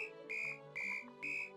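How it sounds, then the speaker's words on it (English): A wooden whistle from the game Terraria plays three bright, sustained tones in an even rhythm, each note held roughly a third of a second over soft game background sounds. "So he tries out his wooden whistle."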